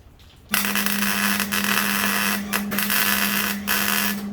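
Tack welding on a steel tube for a custom bumper on an OBS truck, a steady loud crackling buzz with a constant tone that starts abruptly and runs without a break, close up and with no voices.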